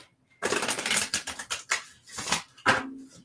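Divination cards being shuffled by hand at a new moon ritual, close, crisp riffling and flicking bursts in several short runs separated by brief pauses, with no talk over them.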